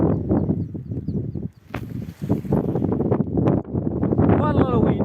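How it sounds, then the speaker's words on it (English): Wind gusting across the Panixer mountain pass in the Dolomites buffets the microphone in a steady, rough roar beneath a person talking throughout. "Quite a lot of wind"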